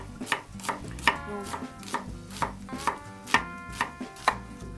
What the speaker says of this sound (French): Tu t'attaques aux courgettes, tu leur règles la sort. D'accord, donc on va les couper en cubes.